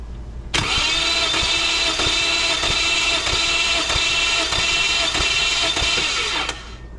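Engine cranking with the starter during a cylinder 1 compression test on a motor with poor compression: a loud, steady whirring crank with even rhythmic pulses for about six seconds, then an abrupt stop.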